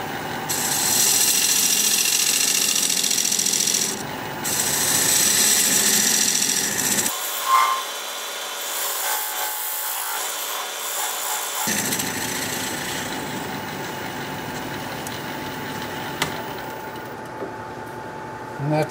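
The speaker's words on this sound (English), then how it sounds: "Now I'm going to switch to this recess tool to put a dovetail on the inside here." A lathe turns defect-ridden wood while a recess tool cuts a dovetail on the inside, giving a continuous scraping, whirring cut with a motor hum and a short break in the low rumble partway through.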